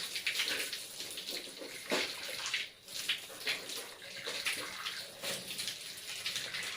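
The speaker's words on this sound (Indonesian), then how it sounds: "Yang kedua, berkumur-kumur sebanyak 3 kali" Running water from a tap splashing steadily while the mouth is rinsed three times during wudu, the ablution before prayer, close and fairly soft with brief dips in the flow.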